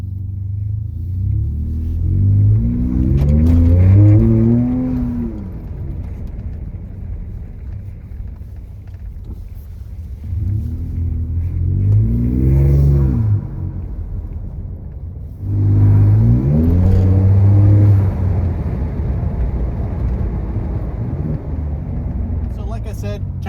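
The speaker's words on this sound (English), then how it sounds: "let's get in, let's go for a little drive and talk a little bit more" Ford F-150 pickup engine droning low and steady while driving on a cold day, swelling in three broad waves of acceleration with rising harmonic whine, continuous rumble throughout.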